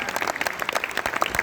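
Audience applause at a Holi kavi sammelan poetry gathering in March 2022, a brief burst of dense clapping with no talk over it.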